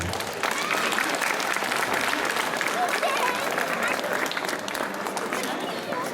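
A large audience at a gathering applauds itself, with sustained, dense clapping and crowd murmur holding steady and loud from start to finish.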